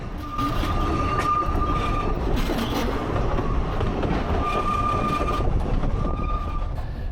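A Ffestiniog Railway steam train rolls steadily over a gated, staffed level crossing just past a station, with continuous loud rumble, rhythmic wheel clatter and faint squealing tones throughout, no voices.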